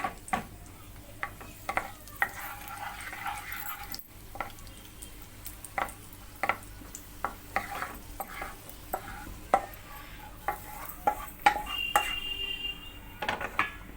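Raisins and cashew nuts frying in a pan for rava laddu, with a steady sizzle under repeated sharp clinks and scrapes of a spoon stirring against the metal, close and fairly loud throughout.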